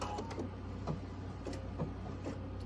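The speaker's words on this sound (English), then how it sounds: "I'm going to sew it diagonally down the middle" A sewing machine stitches diagonally across fabric for a table runner, its steady motor hum running throughout with faint rhythmic stitching pulses and no voices.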